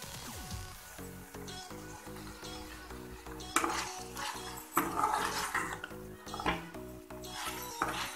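About two spoonfuls of yogurt are whisked in a bowl, with quick clinks and scrapes that grow busier partway through over soft background music.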